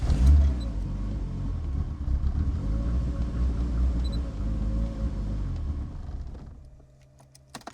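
A car engine cranks and runs with a steady loud rumble while someone tries to start it through a fuel pressure regulator, then cuts out and falls quiet near the end.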